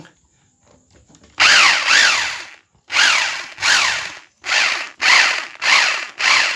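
A Bosch power drill whose hammer-drilling function is faulty runs in short bursts after a quiet start, each loud whirring rev rising and falling, about six bursts separated by brief pauses.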